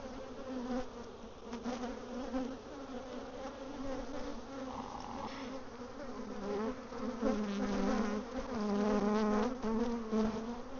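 Honey bees buzzing around an open hive during an inspection after a honey pull, a dense, continuous hum of many bees close by, wavering in pitch and swelling louder toward the end.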